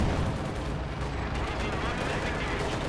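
Dense, continuous battlefield gunfire from 76.2mm guns on Soviet KV-1 tanks in Company of Heroes 2, a steady loud rumble of overlapping shots and blasts with no clear gaps.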